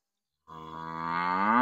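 A single cow lets out one long, loud, close moo that starts abruptly and holds steady to the end.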